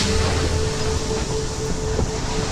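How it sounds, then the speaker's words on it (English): Steady rumbling train ride from the horror video game Poppy Playtime, a continuous low mechanical rumble with faint rail hum, loud and close throughout with no talking. "Finally, I'm on the train express out of this facility."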